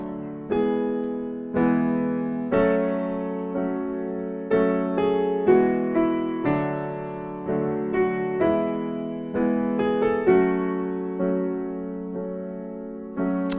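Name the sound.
piano accompaniment played with both hands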